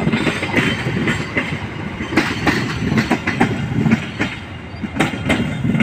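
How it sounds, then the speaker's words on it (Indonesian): KA Dharma Wangsa passenger train rolling into Cikampek station, a steady loud rumble of wagons with repeated clickety-clack wheel beats over rail joints throughout, no voices. "KA Dharma Wangsa masuk stasiun Cikampek"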